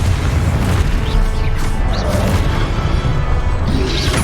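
Booming blasts and crashing impacts from a fiery Confringo spell in the Hogwarts Legacy video game on PS5, loud and dense, with a steady roar of rumbling battle noise throughout.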